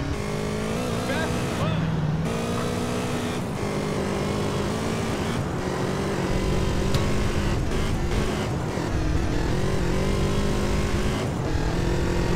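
A motorbike engine in GTA San Andreas drones steadily and loudly throughout, its pitch rising and falling as the bike accelerates and shifts, with game sounds mixed in.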